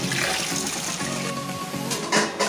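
Water splashes and swirls loudly and steadily as rice is rinsed in a pot for a festive biryani, close up and without speech.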